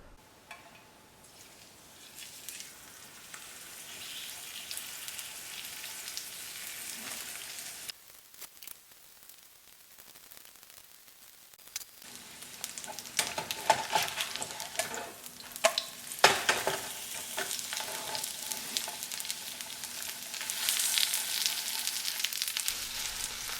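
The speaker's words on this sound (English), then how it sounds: "Let's fry these guys up." Scallion pancakes frying in a pan: a quiet crackling sizzle that thins out midway, then returns louder and busier with sputtering pops toward the end, no voices.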